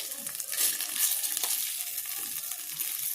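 A fasting snack with sesame seeds and chili flakes being flipped and pan-roasted in a steamer pan with a little oil, giving a loud, steady, close-up sizzle and faint scraping.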